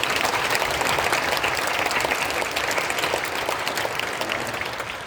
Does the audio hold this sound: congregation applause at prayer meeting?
yes